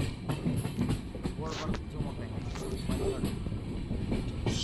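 A train rolls into Raichur railway station, its steady rumble and rattling carriages filling the scene at close range, with faint voices mixed in.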